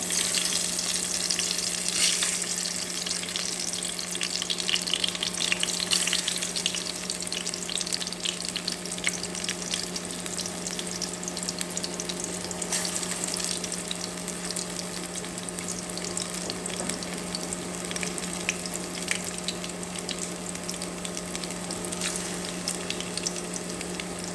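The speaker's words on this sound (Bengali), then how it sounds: "এখন আমি পাকোড়াগুলো এক একে সবগুলো পাকোড়া দিব ভাজার জন্য।" Cabbage pakoras fry in hot mustard oil with a steady, dense crackling sizzle that holds close and even throughout, and no one speaks.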